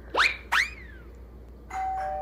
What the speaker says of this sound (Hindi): अपने फोन में डोरबेल बजाना